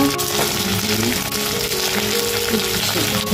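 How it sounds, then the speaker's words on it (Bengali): Ginger and onion fry with vegetables in a pan, giving a loud, steady, close sizzle that runs unbroken throughout, with faint stirring noises underneath. "আদা, পেঁয়াজটা একটু ভাজা হোক, একটু ব্রাউন হবে।"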